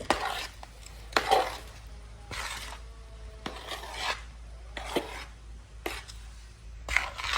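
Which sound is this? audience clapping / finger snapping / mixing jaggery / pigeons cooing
mixing jaggery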